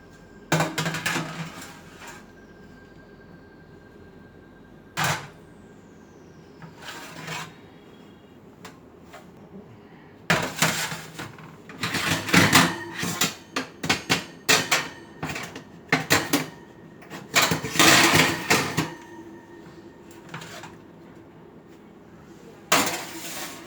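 Metal meat loaf tray and pans clattering and scraping as they go into a home oven, a run of sharp clinks and rattles near and fairly loud, broken by brief quiet gaps.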